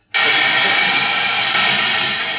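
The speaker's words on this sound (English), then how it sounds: "so weird clanking Steam sounds, I've sort of chopped loads of them up to sort of pepper the track with" A sampled steam train sound chopped into a drum and bass track: a loud, sudden burst of broad hissing steam that holds steady for about two seconds.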